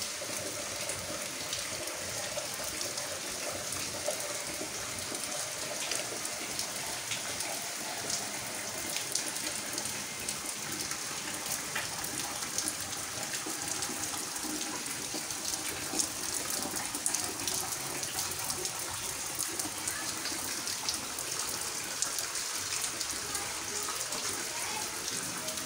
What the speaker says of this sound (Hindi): बहुत तेज स्टार्ट हो गई है अचानक से बारिश।